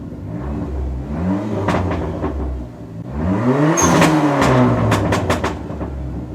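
A car engine at high idle from a faulty idle air controller revs up and down twice, its pitch sweeping upward and settling back, loud and close, with a steady mechanical whir underneath.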